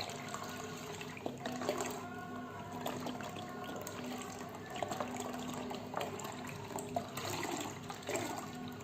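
A second liter of milk is poured in a steady, continuous liquid stream for a dessert pudding, heard close with slight splashing and no speech.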